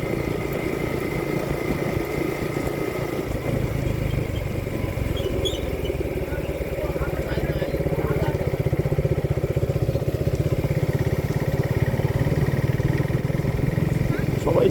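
A motorcycle engine hums steadily with a low, even drone while riding on a cold, foggy winter morning, close and continuous for the whole stretch, under someone talking.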